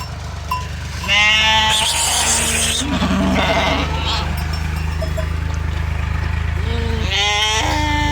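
Several sheep and lambs bleating loudly and close, overlapping calls over a steady low engine-like hum, with a person's voice briefly in the mix.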